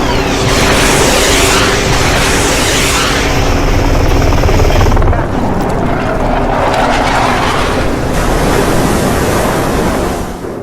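A military helicopter flies near the US warship USS Tripoli at sea. Its loud, steady rotor roar is mixed with heavy wind and surf-like rushing, and no one speaks.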